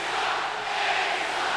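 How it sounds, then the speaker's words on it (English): A wrestling arena crowd on WCW Monday Nitro reacts to Eddie Guerrero with a dense, continuous roar of voices and jeers, loud and unbroken throughout. "I think the crowd's giving their opinion of Eddie Guerrero."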